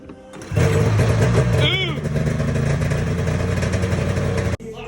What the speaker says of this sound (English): I mean, turn the sled on.